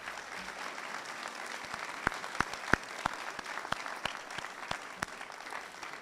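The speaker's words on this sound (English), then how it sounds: "let's give them a round of applause." An audience at a middle school assembly claps steadily. Sharp, distinct handclaps rise out of a soft, sparse spread of applause that keeps going the whole time.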